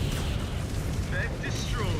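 A mech explodes in the video game MechWarrior 5: Clans, giving a loud, rumbling, sustained blast roar with crackling debris, while a voice speaks over it.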